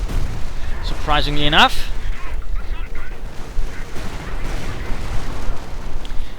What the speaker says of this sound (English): I wonder where the artillery's going.